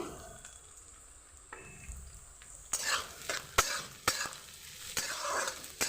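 Cabbage, onion and carrot for egg chow mein are stir-fried in a pan, with sharp scraping strokes and clanks of the utensil over a light sizzle that grows busier partway through, close and without talking.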